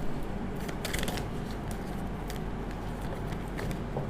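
Tarot cards are shuffled and drawn in a reading, producing soft, rapid riffling and papery flicks in irregular bursts, close up and fairly quiet, with no talking.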